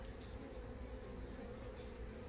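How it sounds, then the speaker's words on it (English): Steady, faint honeybee buzzing at a hive as a new bee emerges from its cell, a low continuous drone with no voices. "Nice little brand new baby bee coming out."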